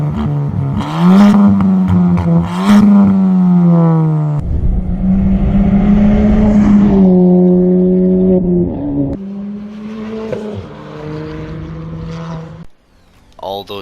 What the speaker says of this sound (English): All those exhaust sounds sound amazing